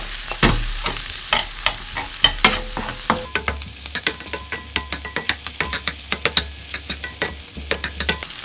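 Fish cake and crab sticks stir-fry in a pan over medium heat, a steady sizzle broken by frequent sharp clicks and scrapes of a utensil, close and with no talking.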